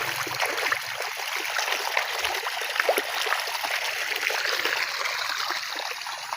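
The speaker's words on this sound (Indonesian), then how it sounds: "Dikarenakan tadi malam hujan, nanti kita buang aja guys airnya ini biar tidak jenuh untuk tanahnya." Rainwater is poured out of a plant pot in a garden, running as a continuous close splashing trickle for several seconds.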